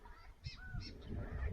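Water birds honk at a bird watching area among pelicans, cormorants and ducks, with several goose-like calls near and at mid distance over a low rumble of outdoor background noise.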